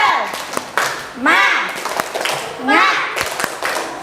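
Children in an Indonesian classroom perform a rhythmic spirit clap chant, sharp patterned claps interleaved with loud group chanting voices, rising in two bursts.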